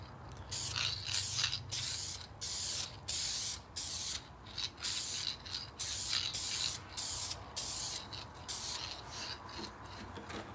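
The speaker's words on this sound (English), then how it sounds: "So we're gonna spray some lacquer on, a few coats." Lacquer sprayed as a light mist onto the headstock of an acoustic guitar kit, a series of close hissing bursts of varying length separated by short pauses, with no talking.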